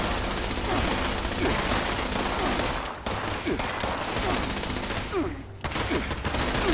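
Dense, continuous automatic gunfire from a turret in Fallout 76, loud and sustained with rapid overlapping bursts and a brief lull partway through.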